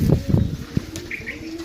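Pigeons cooing at close range, with a few soft, low coos and a faint chirp, heard alone with no talk.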